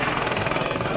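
A helicopter in flight on a sightseeing trip along Australia's Great Ocean Road coast near Melbourne, its loud continuous rotor and engine drone filling the short stretch without pause.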